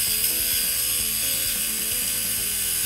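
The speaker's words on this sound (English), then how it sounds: "and now the plunge cut is made," A hole saw makes a plunge cut into an aluminum bicycle frame tube held in a vise, producing a loud, continuous grinding whir with rapid repeated rattling clicks throughout.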